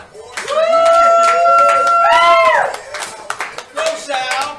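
An audience at a live-streamed game show dance-off claps in quick, uneven bursts while loud voices whoop and cheer over it, fading to scattered claps near the end.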